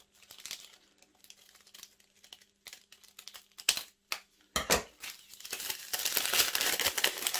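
Scissors snip around a circle in a baking kitchen: a run of close, crisp cuts and crinkles, uneven in rhythm, building into a denser, louder rustle toward the end.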